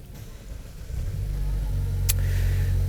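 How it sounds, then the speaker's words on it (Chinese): A 2021 Mazda CX-9 Ignite Edition engine starts from inside the cabin: a faint quiet hum, then the motor catches about a second in and settles into a steady low idle rumble, with a brief click just after. "我先 start engine 先啦"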